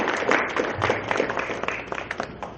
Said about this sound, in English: If we could all give him a round of applause.